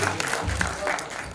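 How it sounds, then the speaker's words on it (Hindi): Applause from a mushaira audience in Bhopal welcoming the poet Nisar Malvi, a steady wash of many hands clapping at moderate level throughout, continuous and without a clear ending. "पुरजोर तालियों से इस्तकबाल करें"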